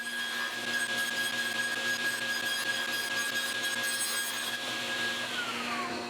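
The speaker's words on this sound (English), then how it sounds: "I can put on the trimming jig onto my table saw, which lets me run each piece through to cut off any remaining excess that overhangs the edges" Table saw fitted with a trimming jig cuts excess overhang off wood panel edges in a workshop, a loud steady whine with a high blade tone that sweeps downward near the end, alone and close.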